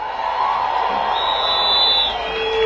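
Outdoor crowd at the Global Day of Action climate march in Glasgow during COP26 cheers and whoops loudly, with shouts and a rising whistle-like cry over a thick wash of voices, brief and energetic.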